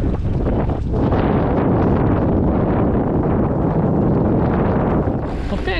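Steady, loud headwind buffeting the microphone during a bike ride near Białystok, Poland, with a broad roar that continues throughout, no talking.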